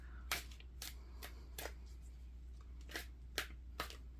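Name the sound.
shuffling playing cards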